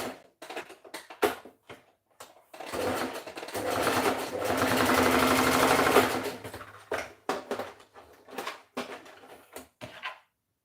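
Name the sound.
sewing machine stitching a garment shoulder seam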